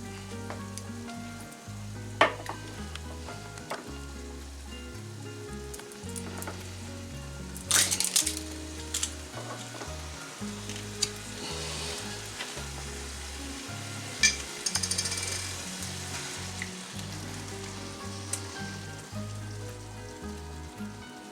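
Taco lasagna meat mixed with taco seasoning sizzles steadily in a pan, with a spoon scraping and stirring it at an uneven rhythm and no talk.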